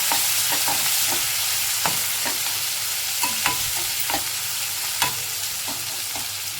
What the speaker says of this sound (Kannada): ಈ ರೀತಿ ನಾನು 3 ಈರುಳ್ಳಿ ತೊಗೊಂಡಿದ್ದೀನಿ. ಹೀಗಾಗಿ ಫ್ರೈ ಮಾಡ್ಕೊಳ್ಳೋಣ. ಚೆನ್ನಾಗಿ ಸ್ವಲ್ಪ ತಿರುಗಿಸ್ಕೊಳ್ಳೋಣ.